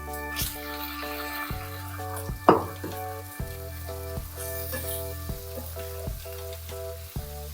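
Beef and whole mushrooms fry steadily in a pan, a continuous sizzle with stirring scrapes and one louder hiss burst midway, close and alone over a faint repeating background tune.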